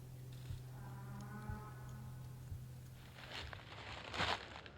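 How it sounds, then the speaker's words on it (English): Cattle lowing on a farm at evening, a few drawn-out harmonic moos in the first half, moderately distant, followed by rustling and crinkling handling noises close by. "Cows."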